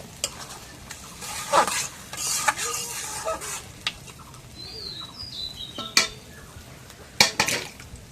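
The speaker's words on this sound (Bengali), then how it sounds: "মাংস রেখে দিয়ে কষাই" Beef being sautéed with potatoes in a pot, irregular stirring and scraping with sharp clinks of a utensil against metal over a low sizzle, with faint birdsong in the background.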